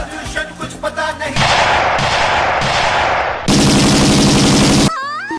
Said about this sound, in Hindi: लेकिन ये साले उस पे गोलियां चलाने लगते हैं।